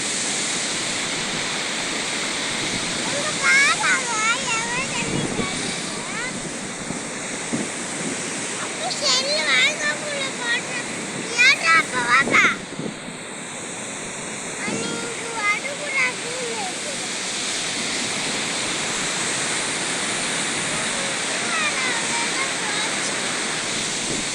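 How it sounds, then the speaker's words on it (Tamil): Water gushes through the Mayanur check dam on the Kaveri river, a loud, continuous roar of rushing water close by, with voices talking intermittently over it. "தடுப்பணையிலேருந்து தண்ணீர் வந்து எடுத்து விட்ருக்கறதுல எவ்வளவு தண்ணீர் அடிக்குதுன்ட்டு பாருங்கள்"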